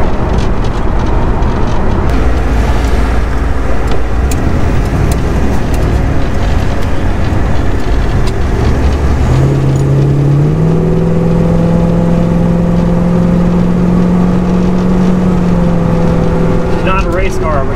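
A 1956 Buick Century pulls away and accelerates hard on the road, its engine rising in pitch through a loud revving climb and settling into a steady cruise drone.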